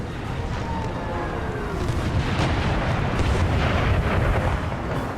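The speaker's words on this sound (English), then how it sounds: "Good artillery hit." Artillery fire hits troops in an American Civil War battle game, heard as a continuous rolling rumble of distant booms and blasts, with no single sharp shot standing out.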